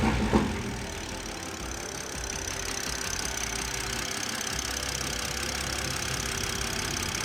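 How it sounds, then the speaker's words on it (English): A car engine cranks briefly after a Fuel-It ethanol analyzer kit install, then settles into a steady, moderately quiet idle that continues unbroken to the end. "So John's gonna crank it, and then Cademan is going to check for leaks"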